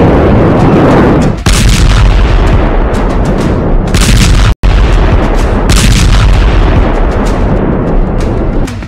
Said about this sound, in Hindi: इसी बम गोलों से बेरूत में नॉन स्टॉप धमाके हो रहे हैं।